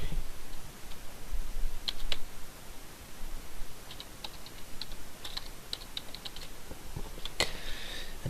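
Typing on a computer keyboard during a Windows Vista setup, with irregular bursts of close, crisp key clicks and taps heard alone with no talking.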